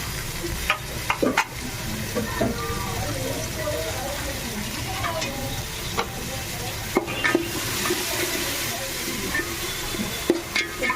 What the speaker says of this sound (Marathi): वाटाणा पण त्यात छान असं परतून घ्यायचं